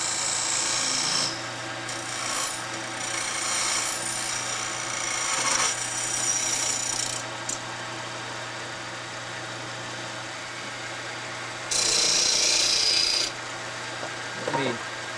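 Wood lathe turning with a half-inch round nose gouge: a steady raspy cutting and rubbing noise over a low motor hum, easing off midway and returning in a louder burst near the end, with no talk.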